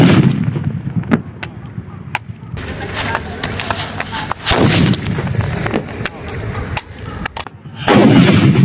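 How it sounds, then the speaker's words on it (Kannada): Firecracker blasts go off against a Samsung J2 phone, with sharp loud bangs and crackling bursts scattered across several seconds, the strongest near the middle and end. "ಈ ಕ್ರ್ಯಾಕರ್ ಹಚ್ಚಿ ಈಗ ಬ್ಲಾಸ್ಟ್ ಮಾಡ್ತೀನಿ."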